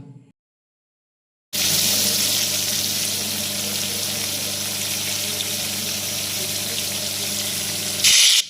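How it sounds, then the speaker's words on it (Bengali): Hilsa fish heads fry in mustard oil in a wok, a loud continuous sizzle and crackle that bursts in after a short quiet start and holds steady to the end, with no talking over it. "এদিকে মাছ ভাজা বসিয়ে দিয়েছি"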